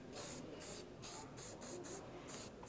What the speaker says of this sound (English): So again, I'll use hairspray on this side.